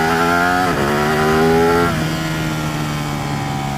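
A Ducati 899 Panigale's L-twin engine revs loud and close after a downshift, a steady harmonic roar that climbs, dips briefly, then holds at a lower steady pitch.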